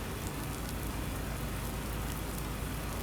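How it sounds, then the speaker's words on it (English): Steady rain in Farming Simulator, set on a Montana logging farm, pours down as a dense, even hiss of drops on surfaces, continuous and moderately loud with no talk. "hopefully this rain will have died down a little bit"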